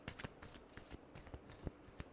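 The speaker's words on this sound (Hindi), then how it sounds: "last shuffle" Tarot cards are shuffled in quick, soft riffling bursts, faint and close, with brief flicks and pauses between them.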